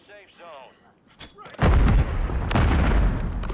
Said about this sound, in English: Eliminated him with a frag